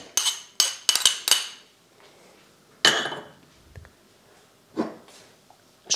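Chopped apple, carrot, onion and spinach dropped into a large bowl for egg salad, with several sharp clinks and thuds in a quick cluster, then scattered softer knocks, close and fairly loud.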